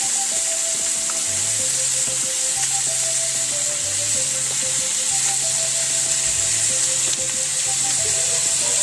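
Vinegar and soy sauce hiss loudly in a pan of chicken adobo with eggs, a dense, continuous sizzle close up, with low tonal hums and occasional light clinks of stirring beneath.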